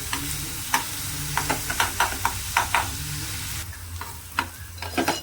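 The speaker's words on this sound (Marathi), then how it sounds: "आता हा कांदा आहे ना आपल्याला चांगला भाजून" Chopped onion fries in a pan for Mumbai-style egg bhurji, a steady close sizzle broken by repeated sharp scrapes and knocks of a spatula stirring, with no talking.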